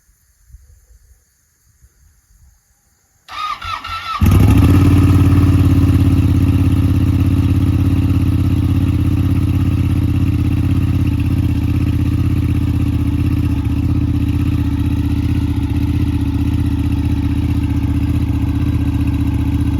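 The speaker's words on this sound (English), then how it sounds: "Ducati Panigale, first cold start." A Ducati Panigale motorcycle on its first cold start: quiet handling noises, then the starter cranks and the engine catches into a loud, steady, rumbling idle that keeps running close by.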